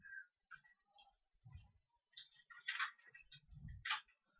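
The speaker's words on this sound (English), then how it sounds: "so now if I want to add next page, so I have to click here" Faint computer mouse clicks on a desk while editing in Google Docs, a few soft, scattered clicks and ticks in a quiet room.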